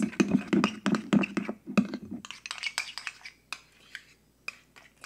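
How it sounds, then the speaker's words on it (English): Philly sauce ingredients mixed in a bowl, with a utensil clinking and scraping against the dish in quick irregular strokes, close up, fading to lighter, sparser taps. "You want to mix all of these ingredients around so that they are very, very well combined."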